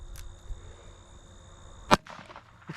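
A .22 caliber rifle fired once at a tomato sauce target, giving a single sharp crack in the middle of quiet outdoor ambience, followed by faint rustling.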